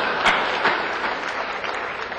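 Audience applause at a Rajasthani TV comedy gathering, a steady broadband clatter of many hands with a few louder bursts, filling the whole moment without any voices.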